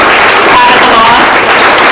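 A brief burst of audience applause for officers at a school honor society induction ceremony, dense clapping throughout with a voice faintly audible under it.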